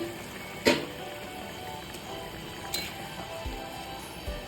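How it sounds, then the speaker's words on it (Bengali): A metal lid set down on a cooking pot of simmering pointed gourd with water, giving one sharp clink followed by a couple of fainter taps in a quiet kitchen. "ঢাকনাটা আবার তুলে দিচ্ছি"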